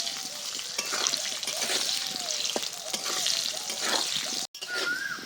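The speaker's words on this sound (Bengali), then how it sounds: "এবার লাল লাল করে আলুগুলো ভেজে নেব" Potatoes fry in hot oil with a steady, close crackling sizzle and small popping bursts, cooking for a fish kofta curry.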